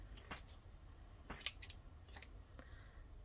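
Scissors snipping silk fibers for silk paper making, a few short, crisp cuts spaced irregularly, close and quiet over a faint low background.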